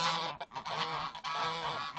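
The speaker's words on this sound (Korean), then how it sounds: "덕이의 연이은 패배는 암컷 거위들의 지지에도 큰 변화를 가져왔다." Geese honk in a continuous, raucous series, the calls close and loud with only brief dips between bursts, and no voices over them.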